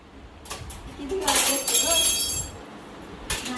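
Dishes being washed by hand, with clinking utensils and glassy knocks in a cluster of close rattles, partly under a voice.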